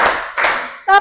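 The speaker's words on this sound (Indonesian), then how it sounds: "Tepuk 1, tepuk 2, tepuk 3," Hands clap in a school classroom, counted out one clap at a time: a few sharp, separate claps spaced evenly apart, loud and close, with a brief voice near the end.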